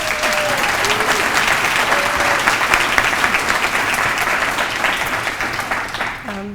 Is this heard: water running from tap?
no